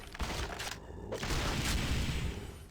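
A defensive turret in the zombie shooter SAS: Zombie Assault 4 fires powerful shots in a dense, continuous barrage of booming gunfire that stays loud and steady throughout.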